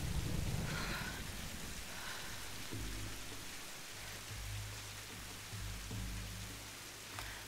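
Steady rain hisses throughout, a dense wash of drops, with low rumbling swells underneath and no speech, from the video game Tomb Raider (2013).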